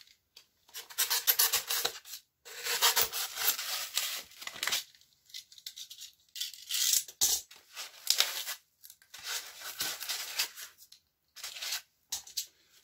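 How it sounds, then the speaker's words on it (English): Knife cutting a V into hardened expanding foam for a tabletop wargame hill, giving repeated scratchy rasping strokes in short bursts separated by brief silences, close and fairly quiet, with no talking. "So what I'm going to do there is I'm going to cut a V into it"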